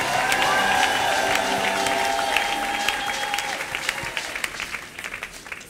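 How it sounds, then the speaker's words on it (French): Dense applause and cheering from a congregation at a church Bible seminar, loud and sustained at first with a held musical tone beneath, then thinning into scattered claps toward the end. "Gloire au Seigneur, acclamons très fort le nom du Seigneur."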